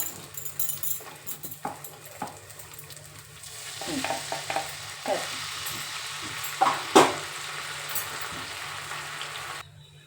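Gongura rice stirred in a sizzling pan with scraping strokes, and a dog whimpers faintly nearby partway through.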